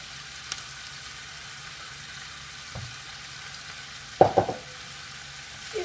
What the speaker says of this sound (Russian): И буду обжаривать вот так вот